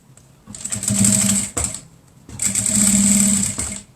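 A sewing machine backstitches over elastic on a 3D cloth face mask, running in two close, loud bursts of rapid stitching separated by a brief pause, with no speech.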